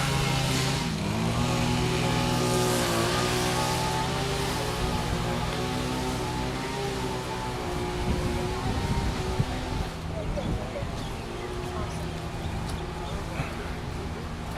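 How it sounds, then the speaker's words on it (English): A lawn mower cuts grass nearby at Waikiki Beach, its engine droning steadily and fairly loud throughout, with outdoor wind noise mixed in. "I apologize for the noise. They're cutting grass."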